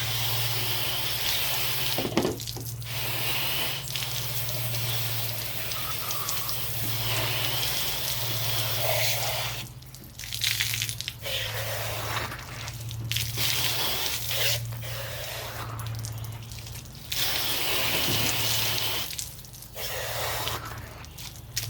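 Water runs from a tap over a processed chicken being rinsed, a steady close splash broken by wet squishy handling and brief pauses.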